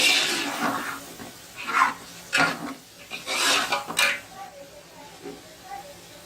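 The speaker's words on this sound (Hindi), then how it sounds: "अब इसके साथ बहुत 1-2 मिनट इसकी भुनाई कर लेंगे बहुत अच्छी तरह से।" Beef and masala frying in a pot, stirred with a utensil that scrapes and rasps against the metal in uneven strokes, moderately close, under a speaking voice.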